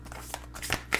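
Tarot cards being drawn and handled, giving a brief close run of soft papery slides and snaps over about a second, quiet and without talk.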